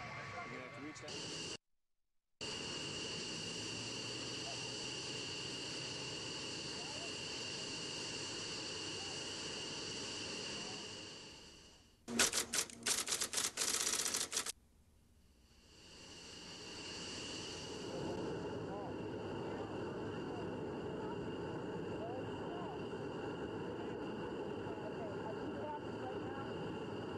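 Jet engine roar from a USAF Thunderbirds aircraft taxiing on the tarmac in 1987, a steady loud drone heard from inside, briefly cut and interrupted by a burst of rattling noise midway.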